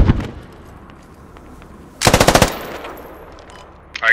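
A short, loud burst of rapid machine gun fire rings out in Squad, set among US Army forces in Afghanistan, preceded by a single nearby shot and followed by another brief burst at the end.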